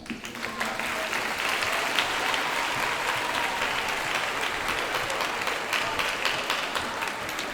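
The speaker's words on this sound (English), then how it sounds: "Let's give them a round of applause." A school family weekend assembly audience applauding performers as they come in; a dense, steady wash of clapping from a large crowd, loud and sustained throughout.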